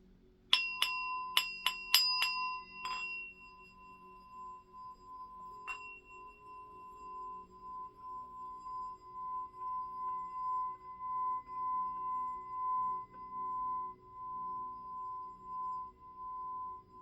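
Chimes struck for a sound cleansing session, several quick bright strikes at the start followed by a single strike later, with clear metallic tones ringing out and slowly fading in a quiet room.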